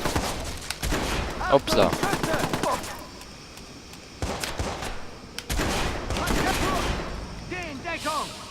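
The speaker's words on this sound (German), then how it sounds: "Auf mich wird gerade geschossen!" Rapid gunfire in the video game Watch Dogs, dense bursts of shots, loud and close, in several clusters separated by brief lulls, with someone talking over parts of it.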